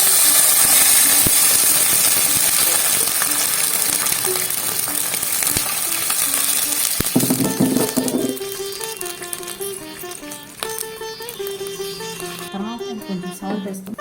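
Water goes into a hot tempering for a semolina upma with a loud, hissing sizzle that rushes for several seconds and then dies down to a quieter bubbling.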